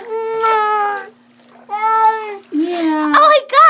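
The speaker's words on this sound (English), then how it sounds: "I never heard a cat do this stuff" A domestic cat meows repeatedly during a bath: three to four drawn-out, strained, wailing cries, close and loud, separated by brief pauses.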